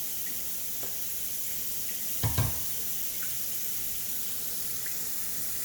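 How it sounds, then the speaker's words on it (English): Tap water runs steadily into a kitchen sink while a pan is rinsed during lasagne meal prep, a constant close hiss with a brief louder splash partway through. "Rinse my pan."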